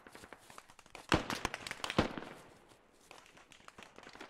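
Sharp popping bursts of smoke grenades going off in the Squad military shooter, two loud cracks close by amid scattered lighter taps and thuds, with a softer crackle trailing afterward.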